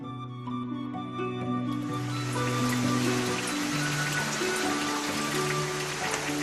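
Cool mountain spring water flows in a stream where a fish basket is steeped, a steady broadband rushing and trickling, moderately quiet, with low sustained musical tones playing over it at first.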